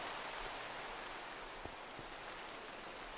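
Steady rain falls in the video game Minecraft, a soft, faint, even hiss of rainfall continuing throughout with no speech.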